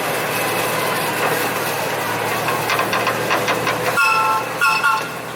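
A small amusement park train at Niagara Amusement Park, Grand Island, New York, rolling along with steady clickety-clack and engine rumble, a couple of short horn or whistle tones near the end, heard nearby.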